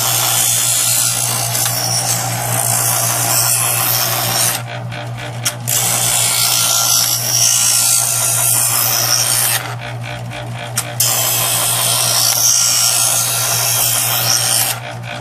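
A Chef'sChoice 120 Diamond Hone electric knife sharpener runs in stage 2 with a steady motor hum, while a knife blade grinds through the slot in three loud rasping passes, each separated by brief pauses.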